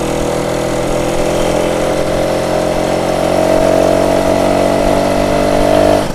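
A 1967 BSA Bantam D10 175 two-stroke motorcycle engine runs without choke, a steady, slightly spluttery buzzing idle that holds close and loud throughout with a small rise near the end.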